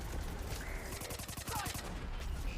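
Gunfire in Mass Effect 3 rattles as rapid automatic bursts of evenly spaced shots over steady battle noise, loud and close with some fainter distant fire.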